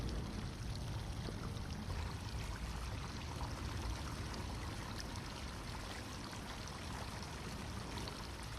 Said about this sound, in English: I hear the running water.